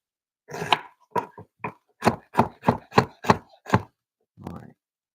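Knife chopping an onion on a cutting board, about ten sharp, close single thuds at an uneven rhythm with silence between, the last cut coming after a short pause.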